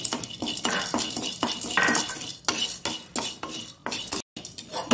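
A spoon scrapes and clinks steadily against a pan while roasted gram is stirred and warmed for rice murukku, producing a close, continuous rattle of metal and dry grains with one short pause near the end.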